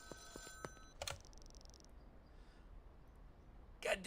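Payphone ringing in the video game Schedule 1, a few short bursts of electronic ringing at the start, then quiet, then a final brief ring.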